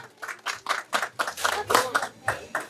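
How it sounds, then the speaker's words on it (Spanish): At a reception in Angahuana Alto, a small group claps in uneven rhythmic bursts, close and lively, with a few hands sounding louder than the rest. "Fuertes esos aplausos, por favor"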